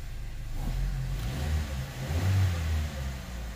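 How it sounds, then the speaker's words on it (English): A 2008+ Chevy Cruze 1.4L engine running after a catalytic converter install, a low steady idle with a mild swell in engine note, close by and with no talk. "It's running good, guys. No leaks. Idle nice."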